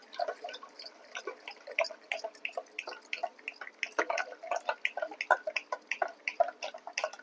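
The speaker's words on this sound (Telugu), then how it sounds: "చూడండి ఇప్పుడు మనం వాటర్ వేద్దాం కొంచెం" Water splashes and drips in quick irregular bursts into whisked yogurt, a faint, close trickle with no voices.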